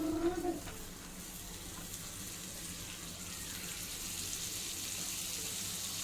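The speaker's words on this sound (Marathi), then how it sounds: "तर त्याच्यावर आपण बटर टाकणार आहे." Butter melting in a preheated pan before beetroot cutlets go in, a faint, steady soft sizzle and hiss that holds evenly throughout with no talking.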